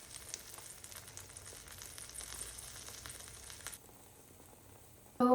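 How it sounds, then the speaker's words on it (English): Cheese omelette frying in a pan, a soft continuous sizzle with faint crackle that drops quieter near the end before a sudden louder thump. "Now I'm making cheese omelette for breakfast."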